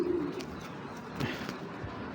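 Grizzle racing pigeons coo close by in soft, repeated low throaty phrases over a faint background hiss, with a few brief bird chirps mixed in.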